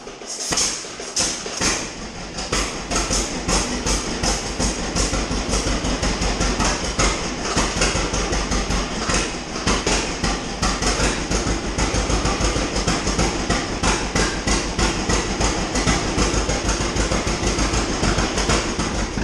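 An old Farmall-style tractor engine fires up and runs steadily, a loud continuous rhythmic clatter with sharp repeated knocks throughout, nearby and without talk.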